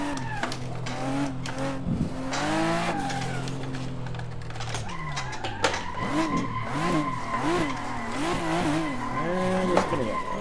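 A car in a VR driving sim game spins out, its tires squealing and skidding in long wavering tones over the engine's drone, with a brief shout partway through.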